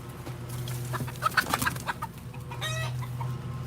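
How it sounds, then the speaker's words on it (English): Chickens cluck and call close by at a rare fruit garden, a steady stream of hen vocalizations over a low constant hum, with a louder burst of clucking near the middle and a higher squawk toward the end. "Chickens have made their way into this area."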